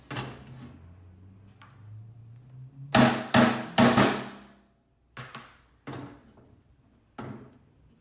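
Sharp metallic hammer blows on the edge of a metal box for a vintage Skilsaw 825 circular saw being rebuilt, a cluster of three loud close strikes followed by several lighter taps with pauses, over faint low background hum.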